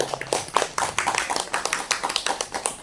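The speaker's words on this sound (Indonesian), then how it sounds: "Kita beri aplaus untuk pengawas TK" Audience applause at a teacher training dissemination event: a small group clapping at close range in a quick, fairly even rhythm of distinct claps, with no talk over it.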